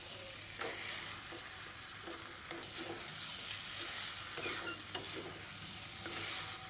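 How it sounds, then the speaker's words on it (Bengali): Jackfruit and prawn curry stirred and sautéed in a pan without water, a steady sizzle of frying broken by repeated scraping strokes of the spoon, close and clear with no talk. "আর এবার সবগুলোকে খুব ভালো করে কষিয়ে নিতে হবে।"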